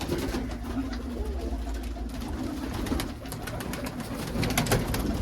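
A loft of pure-bred pigeons coos continuously, low throaty rolling calls layered close together at a steady moderate volume, with no one speaking.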